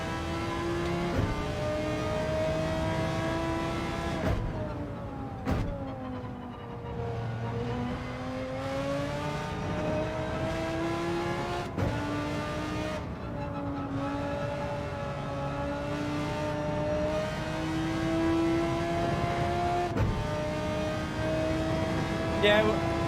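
An Audi race car in Gran Turismo 7 revs hard through its gears, its engine pitch climbing and dropping over and over during a daily race, loud and continuous, with voices faintly underneath.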